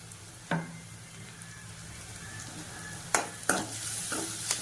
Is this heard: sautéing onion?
yes